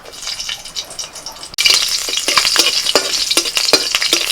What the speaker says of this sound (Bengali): কিছু ডালের বড়ি ভেজে নিচ্ছি তেলের মধ্যে